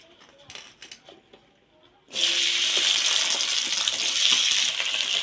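Okra hits hot oil in a wok, and a loud, steady hiss and sizzle starts abruptly and continues. Before it, soft clinks and faint talk are heard.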